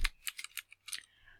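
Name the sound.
typing on a computer keyboard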